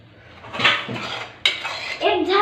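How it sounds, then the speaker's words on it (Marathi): A lid set down on a pan of onions frying for chapati noodles gives a few close metallic clatters and clinks of cookware, with a sharp knock midway and a soft sizzle underneath. "एक झाकण ठेवायचं"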